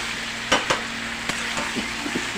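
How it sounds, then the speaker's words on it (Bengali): Chicken frying in a pan with onion, salt, turmeric, chilli powder and green chilli gives a steady low sizzle, broken by a few sharp clacks of stirring near the start and quieter scrapes later, with no talking. "এই যে পেঁয়াজ, নুন, হলুদ, লঙ্কার গুঁড়ো, কাঁচা লঙ্কা সব কিছু দিয়ে চিকেনটা ভালো করে ফ্রাই করে নিচ্ছি আগে"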